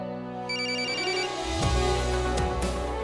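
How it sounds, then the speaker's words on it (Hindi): A phone ringtone plays loudly and alone, a bright electronic melody with steady tones shifting partway through. "अशोक का फोन है।"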